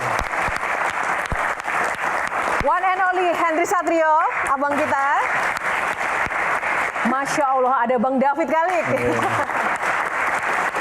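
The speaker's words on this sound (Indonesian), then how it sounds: "Yang pertama kita berikan tepuk tangan untuk Kang Maman" Crowd applause at an Indonesian Q&A event on hajj quotas, a continuous bed of clapping under an emcee who speaks loudly and animatedly over it for much of the stretch.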